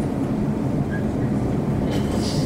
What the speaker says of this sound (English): This is the train to Liverpool Street.